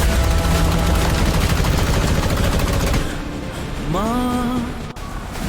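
Gunfire in a Hindi horror animation rattles as a dense, continuous burst of rapid shots for about three seconds. A sustained, rising tonal sound and a sharp click follow.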